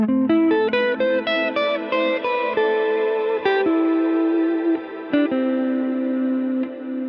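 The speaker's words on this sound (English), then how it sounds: "Let's add a lot of pre-delay to a long decay here." Electric guitar notes played through a Strymon Cloudburst ambient reverb set to long pre-delay and long decay, a series of plucked tones swelling into a wide, sustained wash that rings on continuously.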